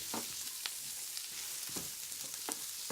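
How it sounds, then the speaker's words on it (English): Chopped red onion sizzles in a pan for a turkey stew, a quiet steady hiss with a handful of light scraping stirs at intervals. "I'm going to do is add a red onion, and this is going to add some color to our stew as well, right in there. And stir that around."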